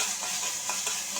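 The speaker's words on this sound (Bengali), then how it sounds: "এই সাউন্ডটা মানে হচ্ছে কোনো পানি নাই, এটা তেলের মধ্যে ভাজা ভাজা হচ্ছে" Bottle gourd seeds fry in hot oil in a pan, giving a steady close sizzle with a few soft stirring scrapes and no talk.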